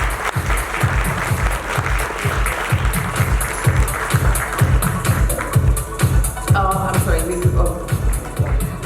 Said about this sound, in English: please give a warm round of applause for Mr. Jasbir Singh Awla